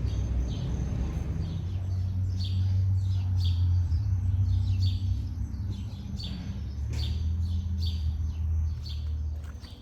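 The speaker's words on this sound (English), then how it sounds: "Stop and listen to the birds." Birds chirp and tweet outdoors near a 1929 fixer-upper house, with short, repeated calls heard at a moderate distance over a constant low rumble.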